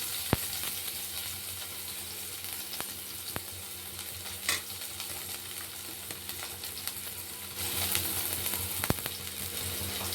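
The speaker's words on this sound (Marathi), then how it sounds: "तर सर्वात पहिले 1 चम्मच तेल टाकायचं त्यामध्ये। त्याच्यामध्ये कांदा हा परतून घ्यायचा थोडासा।" Onion sautéing in about a spoonful of oil in a pan, a soft steady sizzle with occasional light clicks of a spoon, faint and close, no one speaking.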